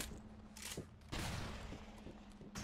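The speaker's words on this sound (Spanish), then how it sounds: "Yo disparo al cielo, por si acaso." Gunfire fired into the sky in the Loadout video game: a few distinct bursts of shots, with a longer sustained volley in the middle, over a steady low game hum with no talk.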